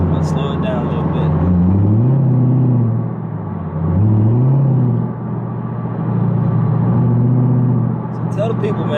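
A Chevrolet Corvette C7 cruises on a highway with a steady loud engine and road rumble, its pitch rising and falling through several gear changes, while people talk inside the car.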